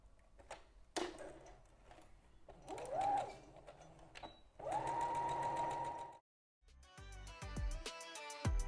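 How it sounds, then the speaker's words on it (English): A sewing machine top-stitching tutu skirt fabric runs in several bursts of steady whirring stitching, close and fairly loud, with short pauses between runs and some light handling clicks. "So I'm going to top stitch right now before I will put the both side seam and top stitch all"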